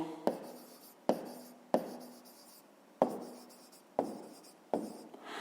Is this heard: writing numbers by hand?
yes